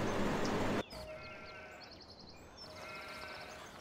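Sheep bleat in a farming video game, a few high, thin calls over a quiet ambient farm background after a loud burst at the start.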